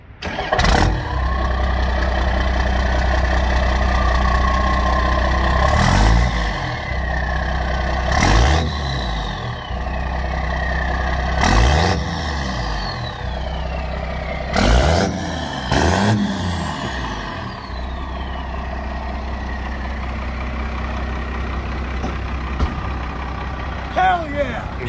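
A first-generation Cummins diesel truck fitted with an HX35W turbo and a 4-inch exhaust runs loud and close, a steady low rumble broken by several sharp revs that swell and fall back to idle, with voices now and then.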